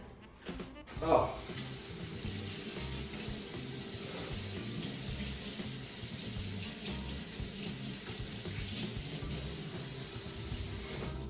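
Tap water runs steadily for rinsing hands in a home kitchen, a constant broadband hiss that continues through the whole stretch after a brief thump and rustle at the start.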